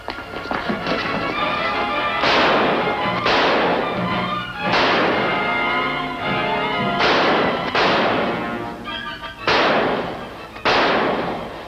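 Gunshots in an old radio drama: about seven sharp, loud bursts fire at irregular intervals, each leaving a brief ringing tail, over a busy background bed.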